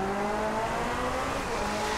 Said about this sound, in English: Wow, that's a nice drift.